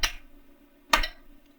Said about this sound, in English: Next thing we're going to do is we're going to just try clapping that rhythm.